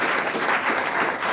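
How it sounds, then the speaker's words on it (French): Audience applause at a live broadcast gathering in Kongo Central, dense steady clapping from a crowd filling the whole short moment, loud and close with no voices over it. "Applaudissez pour l'amour"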